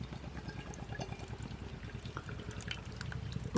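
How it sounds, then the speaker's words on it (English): Tiny Rebel Stay Puft vanilla porter pours from a 330 ml can into a glass, a soft steady trickle and glug running for several seconds, close and fairly quiet. "Let's pour it in the glass and see what's in the glass"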